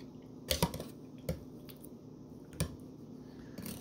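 Canned fruit mix in natural juice is stirred with a few soft, wet squishing clinks spaced irregularly over a faint steady background, close and quiet.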